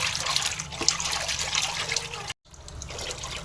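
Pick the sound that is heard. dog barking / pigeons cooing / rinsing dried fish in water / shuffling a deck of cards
rinsing dried fish in water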